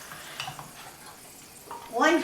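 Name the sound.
potato pancake mixture placed in hot margarine in frying pan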